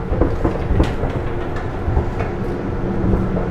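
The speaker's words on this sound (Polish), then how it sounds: "pociąg chyba też jest cały spalinowy" A diesel train rumbles steadily along non-electrified tracks in Hokkaido, Japan, a continuous low roar with faint rattling and clacking, heard from inside the carriage.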